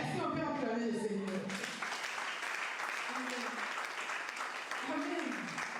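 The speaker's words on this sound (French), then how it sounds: "Est-ce qu'on peut acclamer le Seigneur?" A church congregation claps and cheers in praise of the Lord, sustained loud applause filling the room after a voice, with voices rising over the clapping.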